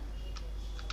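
A few light clicks of typing on a computer keyboard while entering data into an Excel billing sheet, quiet and close, with no talking.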